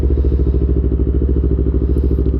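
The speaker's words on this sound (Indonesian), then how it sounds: "Nih gue lagi manasin motor dulu." Motorcycle engine idling while warming up before a Sunday morning ride, a steady, loud, low rhythmic putter close by with no talking.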